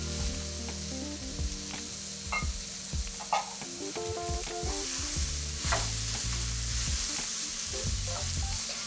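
Cabbage frying with tender apples, carrots and peppers in a hot pan over high heat for a sweet potato harvest hash gives a steady close sizzle with scraping stirs throughout, under soft background music.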